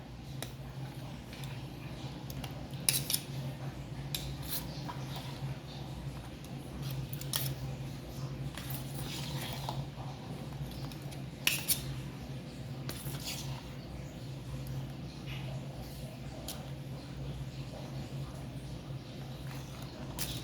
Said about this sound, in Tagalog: Yan, hinahalo na namin yung aming buko salad.